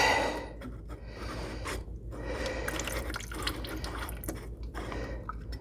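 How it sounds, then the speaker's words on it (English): Fuel trickling and dripping into a drain pan under a John Deere 3038e compact tractor, a faint continuous liquid trickle with small splashes, close by and without talk. "I have my pan under here because I'm sure there's going to be fuel that comes out"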